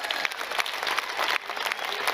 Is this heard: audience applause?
yes